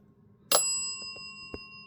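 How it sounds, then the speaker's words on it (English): A small bell on a very old haunted asylum item rings once with a sharp, clear strike and a long, shimmering decay. A faint tap and a second lighter touch follow, all close and alone in a quiet room. "you can see that the bell is agreeing with me"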